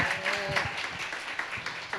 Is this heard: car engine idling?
no